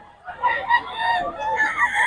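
A rooster crows nearby, its drawn-out call rising and falling over a couple of seconds, with other fowl and faint voices in the background.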